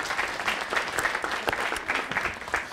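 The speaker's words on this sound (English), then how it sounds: "Give Nick a big round of applause." A small comedy-show audience gives a brief round of applause, even clapping close by and fairly loud without any talk over it.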